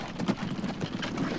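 Horse-drawn carriage hooves clip-clopping in the train-building video game Train Fever, a quick steady patter of light hoof clops repeating close by over a faint mechanical background hum.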